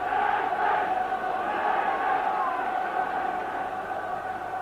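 Football crowd at a Dundee United UEFA Cup match against Vardar, a steady far-off roar of encouragement from the stands that holds at an even level throughout with no distinct individual voices.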